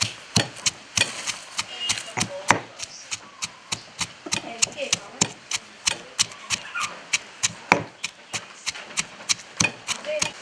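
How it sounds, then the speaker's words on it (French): Coarse salt and garlic are pounded by hand for a wood-fire rougail saucisse, with a steady series of sharp, close thuds in an even rhythm, repeated dozens of times. "Là où pile le gros sel avec l'ail."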